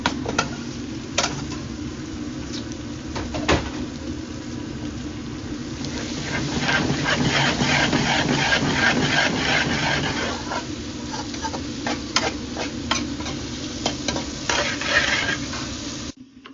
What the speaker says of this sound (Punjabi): ਵਿੱਚ ਆਪਾਂ ਪਾ ਦਿੰਦੇ ਸ਼ਾਪ ਕੀਤੇ ਹੋਏ ਰੈਡ ਆਨੀਅਨਸ